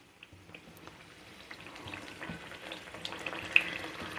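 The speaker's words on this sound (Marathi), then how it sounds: "तेल गरम झाले। तेलामध्ये मी आता पुऱ्या सोडते।" Puris drop into hot oil in a kadhai, a soft bubbling crackle that gradually grows louder and busier, with a small sharp pop near the end.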